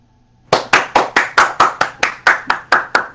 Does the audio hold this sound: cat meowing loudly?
no